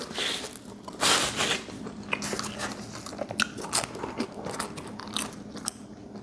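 Biting and chewing a New York pepperoni pizza slice, with crunchy, crackly bites repeating close to the mic over about six seconds and no talking.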